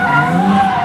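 Tires of a BMW M3 screeching during a drift show at an expo, a loud, sustained squeal lasting under a second, close and alone.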